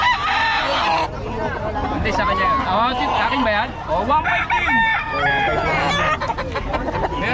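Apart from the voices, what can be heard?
chickens clucking and crowing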